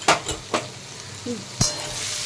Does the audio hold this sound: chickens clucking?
no